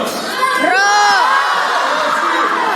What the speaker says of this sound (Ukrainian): то ви гучно кричите гол!